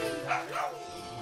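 A pair of short, bright dog barks from the Super Mario 3D World video game, close and clear over a faint steady game tone.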